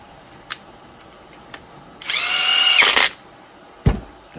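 A power tool drives screws into an RC car kit, a Team Associated SR10M, with one close, loud whirring burst of about a second, framed by a few sharp clicks and taps from handling the parts.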